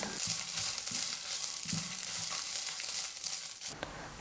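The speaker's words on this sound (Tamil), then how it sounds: "எல்லா மசாலாவையும் சேர்த்து நல்லா வறுத்துக்கிட்டேன்" Ground masala and grated coconut sizzle and crackle in a pan over medium flame while being roasted for a chicken gravy, a steady close hiss with faint stirring scrapes and no talking.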